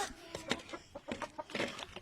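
Rhode Island Red and Black Australorp breeder chickens in Pangasinan clucking softly, a quick series of faint, close clucks and murmurs in an irregular rhythm.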